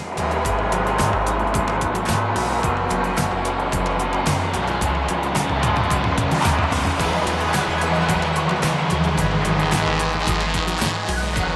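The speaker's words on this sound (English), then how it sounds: "TCR Spain came out for one last quick race, which was spectacular in the wet." TCR Spain touring cars race on a wet track, engines roaring loud and continuous with layered revving, gear changes and rushing spray as cars pass close by.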